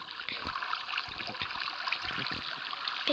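Flowing water in the video game Minecraft trickles and splashes steadily, a soft continuous burbling stream heard alone.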